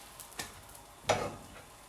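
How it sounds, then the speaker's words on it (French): Omelette for appetizer canapés cooking in a frying pan, giving a faint, steady sizzle with a couple of soft scraping touches. "Donc on va laisser cuire à peu près 1 minute là."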